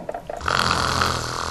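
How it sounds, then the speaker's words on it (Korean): A sleeper's snoring: one loud, rasping inhaled snore building after a couple of faint breaths, close and alone. "그렇다면 대체 코를 고는 이유는 뭘까요?"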